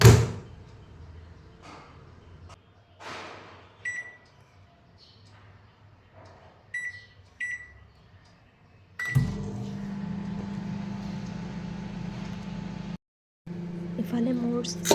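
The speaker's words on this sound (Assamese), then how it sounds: "সেইটো মই মাইক্ৰ'ৱেভৰ ভিতৰত ভৰাই দিলোঁ আৰু 12 মিনিটৰ কাৰণে মই ইডলিখিনি হ'ব দিলোঁ" Idli cooks in a microwave oven with a bowl of water. Speech comes first, along with clicks and a few electronic beeps. A door thuds, and then the oven starts a steady, close humming drone that briefly cuts out.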